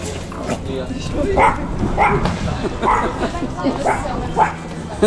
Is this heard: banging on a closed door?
no